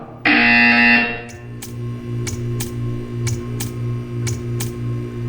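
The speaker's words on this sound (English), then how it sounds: "You will hear a buzzer. When you hear the buzzer, stare at the art." A loud, harsh electronic buzzer in the video game Portal 2 blares for about a second, followed by a steady low hum and a regular series of sharp ticks.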